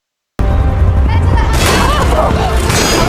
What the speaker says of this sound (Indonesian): mercon meledak-ledak di mana-mana di udara